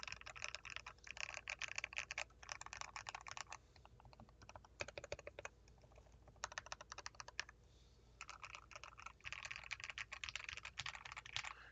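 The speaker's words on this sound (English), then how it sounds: "lubing is what took this keyboard from sounding just kind of okay to now it sounds like" Rapid typing on a mechanical keyboard with lubed switches, a quiet, soft clacking in bursts of fast keystrokes separated by brief pauses, close up and with no talking.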